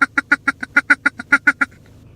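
Duck call blown in a quick run of about twelve short, evenly spaced quacking clicks, close and clear, the soft feeding chatter used when only one or two decoys are set out, ending abruptly into quiet.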